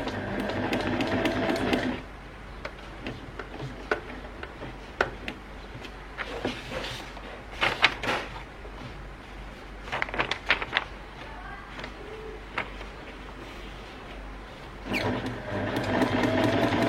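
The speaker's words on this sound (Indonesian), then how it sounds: "Lalu kita mulai menjahit lagi lurus." Sewing machine running a straight seam: a brisk whirring burst opens and closes the stretch, with scattered clicks and handling knocks during the quieter pause between.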